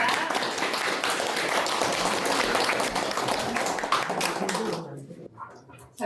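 Audience applause welcoming a certified appraiser to the lecture podium at a Korean training seminar, a dense, steady wash of clapping that fades out near the end, followed by quieter room sound.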